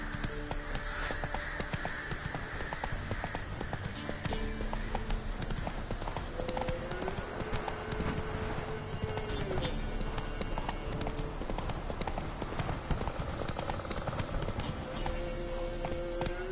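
Hooves of the horse Roach gallop in The Witcher 3, a fast, steady clip-clop drumming up close, mixed with game music and ambience for the whole stretch, with speech in places.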